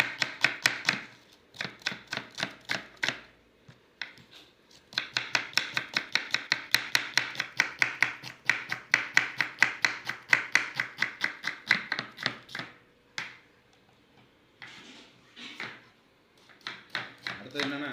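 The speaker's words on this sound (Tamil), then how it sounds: "இப்போ நல்லா பொடிசாக கட் பண்ணிக்கலாம்" Knife finely chopping tomatoes on a cutting board for chicken biryani, rapid rhythmic close-up chopping in long bursts with brief pauses, sharp and crisp throughout.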